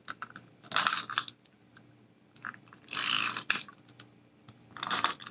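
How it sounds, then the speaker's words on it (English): Tape is pulled and pressed onto a face mask to hold a clear plastic window, heard as three bursts of crackly, sticky ripping close by with quiet gaps between. "So now we're going to put a little of this tape"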